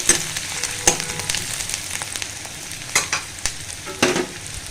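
Chopped onion frying in oil in a pan for a thin fish curry, a soft steady sizzle broken by occasional scraping stirs of a spoon, close and with no voices.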